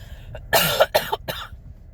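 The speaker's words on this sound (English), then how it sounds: "Sorry about this cough." A person coughs several times in quick succession, close and fairly loud, with short harsh bursts separated by brief pauses.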